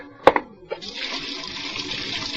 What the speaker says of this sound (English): Hot water. Now, that's hot.